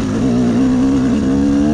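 KTM 200 EXC dirt bike engine lugging slowly uphill in fourth gear, a steady, loud, low droning hum held at near-constant revs.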